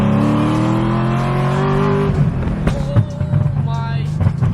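A Corvette comes in with a loud engine note, a steady drone that shifts pitch as it slows and arrives close by, followed by door and handling noises and people talking.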